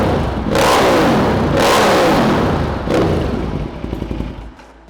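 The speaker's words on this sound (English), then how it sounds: "We'll give it a quick rev." A motorbike engine revved hard in a workshop: three loud, close blips, each a rising roar that falls away, followed by a quieter idle sputter at the end.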